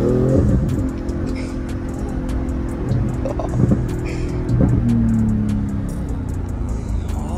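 Ferrari 488 Pista and Porsche 911 GT2 RS engines running in a tug of war, a loud continuous low rumble with several rising revs and throttle surges, plus faint intermittent clicks.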